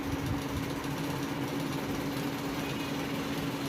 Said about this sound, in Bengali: কাপড় ভাঁজ করলাম, এখানে লাগায় সেলাই শুরু